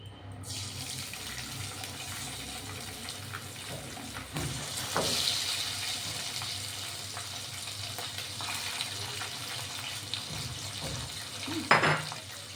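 Small mourala fish sizzle as they hit hot oil in a kadai, a steady broad hiss running throughout, with a brief clink of a utensil against the pan near the end.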